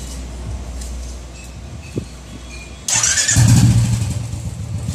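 A two-wheeler engine cranks and catches, then settles into a steady idle rumble after a quiet stretch with a faint click.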